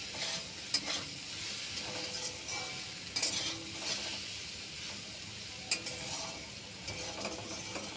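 Colocasia stolons (kochur loti) being stirred with salt and turmeric in a pan, a steady soft frying sizzle under a few sharp scrapes and clicks of the spoon against the pan, with no talk.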